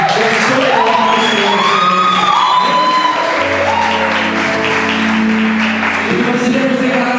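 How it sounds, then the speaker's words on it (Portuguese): A church youth service congregation applauds in a continuous loud wash of clapping with cheers and shouts, while voices and a sustained musical tone carry on above it. "que vocês aplaudissem ao Senhor"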